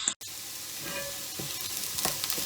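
Onions sizzle steadily as they sauté in a pan of butter and margarine mixed with a little oil, a continuous close frying hiss with faint stirring scrapes and no talking.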